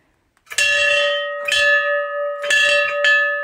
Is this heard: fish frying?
no